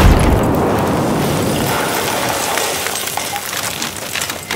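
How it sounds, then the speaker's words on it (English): A grenade detonates in Battlefield 4, opening with a heavy, loud boom that trails off into a long rumbling, debris-filled decay with faint clinks over several seconds. "Watch it, I'm throwing a grenade!"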